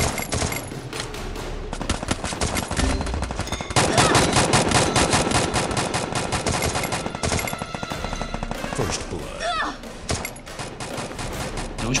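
Rapid bursts of automatic gunfire from the video game Free Fire, dense and continuous, with single shots and explosions mixed in throughout.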